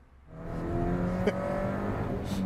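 A 2013 Mini Cooper John Cooper Works GP being driven: a steady engine drone builds as the car pulls away, with a brief sharp transient midway, heard from inside or near the car, with no talking.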